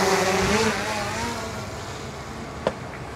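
A camera drone with an ND16 filter fitted lifts off nearby, its propellers giving a buzzing, wavering whine that is loudest at the start and eases as it climbs, with one sharp click near the end.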